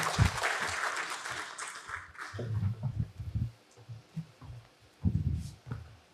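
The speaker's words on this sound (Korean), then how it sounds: "박수로 맞이해 주십시오." An audience at the 6th John Paul II Symposium for Family and Youth applauds to welcome the presenters. A burst of clapping fades into scattered thumps and claps.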